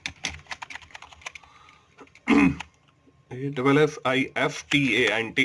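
Quick bursts of code being typed on a computer keyboard, with clicky keystrokes in rapid clusters, followed by someone speaking close to the microphone.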